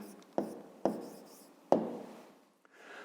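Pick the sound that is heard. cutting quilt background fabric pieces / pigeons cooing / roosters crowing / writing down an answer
writing down an answer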